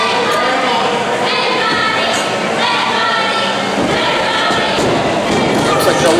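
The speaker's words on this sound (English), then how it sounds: "Crowd chanting dead bodies, knowing what Joey Avalon can do." A wrestling crowd at an indie show chants and cheers in a sustained, rhythmic roar, loud and continuous, with a voice talking over it.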